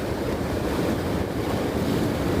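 Ocean waves break near a rocky surf spot with a steady, dense roar of surf, mixed with wind buffeting the microphone.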